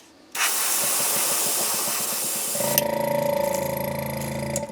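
A paint spray gun hisses as it sprays orange paint onto a bluegill fishing lure, a loud continuous close spray starting abruptly, then shifting into a pulsing, buzzing tone near the end.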